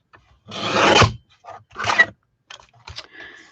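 Small paper trimmer slicing a sheet of cardstock for a handmade card, a short rasping blade stroke followed by a second briefer cut and light paper handling, close and alone.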